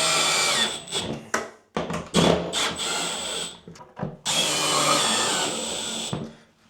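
A power drill drives screws into a light fixture mounting in short on-off bursts, the motor whirring loud and close with brief pauses between runs and no talking.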